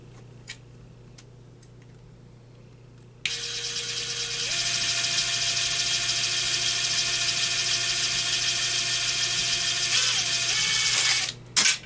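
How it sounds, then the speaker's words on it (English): A power drill boring into a computer case, kicking in abruptly with a loud whirring motor whine that climbs in pitch and holds steady for several seconds before spinning down, preceded by a few small clicks. "So I'm just starting to drill now, and you can see the little drilling."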